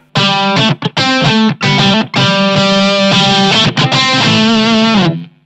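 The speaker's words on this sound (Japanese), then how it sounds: "スプリングリバーブにしよう。" Distorted electric guitar chords through a Blackstar ID:CORE V4 amp ring out with a washy, splashy spring reverb tail, played loud and close in short strummed bursts before a sustained final chord.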